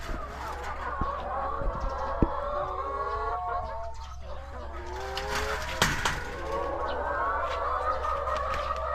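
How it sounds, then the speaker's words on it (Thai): Laying hens on a farm cluck and chatter nearby in a steady flock, with a few sharp knocks and a low hum underneath. "จะมาให้อาหารไก่ต่อ"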